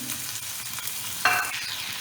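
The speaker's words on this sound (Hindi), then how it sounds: "अब हम इसमें टमाटर डाल देंगे। टमाटर हल्के से भूनेंगे।" Tomatoes fry lightly with sautéed onions in a pan for a vegetable cheese omelette, a steady close sizzle with stirring scrapes and a sharp clink partway through.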